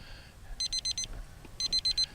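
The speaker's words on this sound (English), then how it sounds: "There's my timer for 9 minutes." Two bursts of four rapid electronic beeps from a 9-minute timer during an Apprentice S 15e RC plane flight, high-pitched and clear, separated by a short pause, over a low steady hum.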